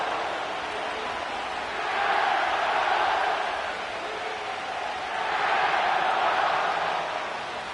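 A stadium crowd in an EA Sports NFL football game at SoFi Stadium in Inglewood, a broad steady roar that swells twice and settles between the surges.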